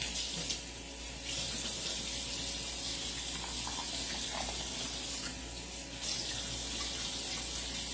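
A kitchen tap runs in a steady rushing stream while lobster is rinsed beneath it, with brief splashy changes as the flow is interrupted, close and continuous.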